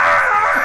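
A loud, shrill screaming voice line plays as a taunt in the Aquapazza fighting game, a brief sustained shriek heard alone.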